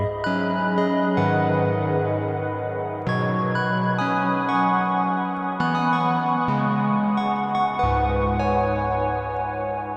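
Sustained synth chords change every few seconds through a Strymon BlueSky v2 reverb pedal, each one ringing out with a long reverberant tail that blurs into the next.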